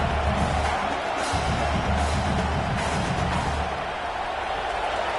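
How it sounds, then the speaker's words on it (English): A packed stadium crowd at an LSU college football playoff first-round game against Arkansas roars in a steady, dense wash of cheering that holds evenly throughout. "Listen to the crowd energy here in the early going."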